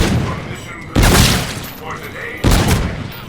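Two loud, sharp rifle shots from an M1 ring out in Call of Duty Infinite Warfare's Zombies in Spaceland mode, spaced about a second and a half apart. Each shot is close and booming and trails off into a decaying echo.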